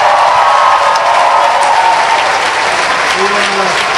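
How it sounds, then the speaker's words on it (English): Crowd applause for President Obama's speech at the Brandenburg Gate in Berlin, a loud, steady wash of clapping and crowd noise heard from a distance and continuing without a break. "I'll wait for the applause to die down."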